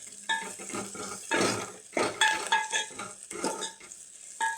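Turmeric is stirred into perugu pulusu in a pot with a spoon: a close series of rhythmic scraping and swishing strokes against the pot, with faint clinks of metal, and no voices.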